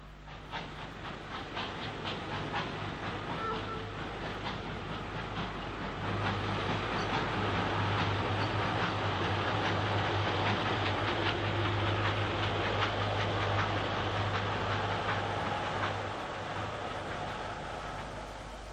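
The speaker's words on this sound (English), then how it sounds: "A Patriot Class 460 speeds through on an up express." A Patriot Class steam locomotive hauls an up express at speed through Crewe South, a loud, steady roar of wheels and rail clatter with hissing steam that swells in the middle and eases off toward the end.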